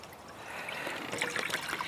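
Water being poured into a container for a low eco-friendly flower arrangement, a soft steady trickle and splash close by with no talk.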